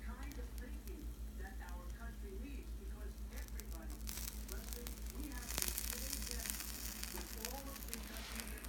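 A burger patty sizzling faintly in a pan, a low, steady crackle and hiss beneath a person talking, with a brief louder burst of sizzle partway through.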